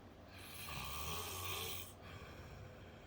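A man snores in his sleep late at night in Arkansas, one long, low, rasping snore that builds and then stops. It sounds close but quiet, and the room is still around it.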